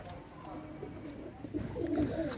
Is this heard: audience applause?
no